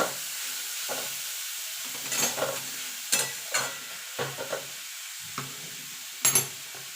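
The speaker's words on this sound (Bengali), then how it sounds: "গাজরটা দিয়ে গাজরটা একটুখানি নাড়াচাড়া করে নেবো" Carrots are stirred in ghee in a pan for carrot payesh, giving a soft frying hiss broken by intermittent scraping strokes of the spoon, spaced about a second apart.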